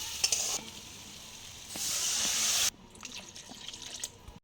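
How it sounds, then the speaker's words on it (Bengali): Water poured into a sizzling pan of spiced potato curry base for a fish kalia, giving a loud hissing rush that swells, then drops to quieter bubbling and stirring. "আমার আলু মশলা সময় কষানো হয়ে গেছে এবার আমি জল দিয়ে দিচ্ছি"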